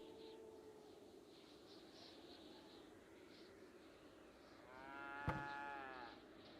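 Cattle in the medieval colony-building game Going Medieval: a steady lowing moo at the start, then a louder, harmonically rich moo near the end, set against constant game ambience with a sharp click partway through.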